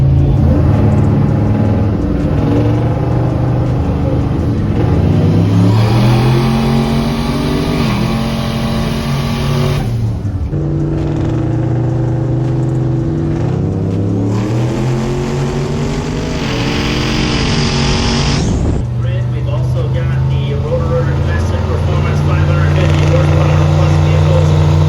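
A turbocharged 6.0 GMC Sierra truck roars loud and close during a no-prep street drag race, its engine revving hard with rising and falling pitch and a brief lift around the middle; talk is mixed in.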